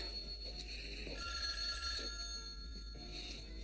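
A telephone bell ringing in a French-dubbed American drama film, a steady electronic ring heard faintly over a low hum, no talk over it.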